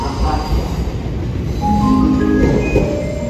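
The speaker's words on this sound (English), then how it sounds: "A train will be arriving at track 1." A train pulls into track 1 at Kanazawa Station, a loud steady rumble of wheels on rails with rising squealing brake tones near the platform and no voices over it.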